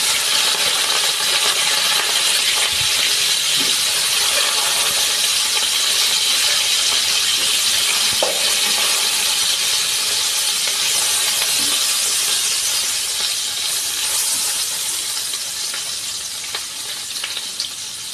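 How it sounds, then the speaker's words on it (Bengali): Boiled potatoes fry on a tawa with a steady, dense sizzle that stays close and fairly loud, easing off slightly toward the end, with no talking. "আমি এখানে আলুগুলোকে আগে ভেজে নেব।"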